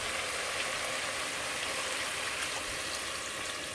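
Water pours steadily into a pot of curry chicken, a continuous even splashing rush heard close up with no talking.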